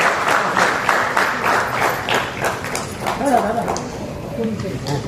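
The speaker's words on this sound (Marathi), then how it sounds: "जोरदार टाळ्या वाजवायच्या" An audience at a family gathering claps during a lamp-lighting ceremony, with brisk, rhythmic clapping at first that blends into crowd noise as voices rise and talk over it.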